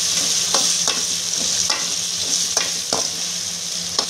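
Brinjals with rock salt fry in hot oil, a steady close sizzle broken by several sharp scraping stirs of a spoon against the pan, no voices.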